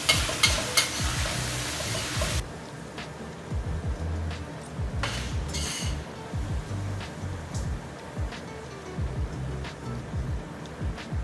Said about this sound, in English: Once you hear that sizzling sound, toss a few more times to bring out the fragrance.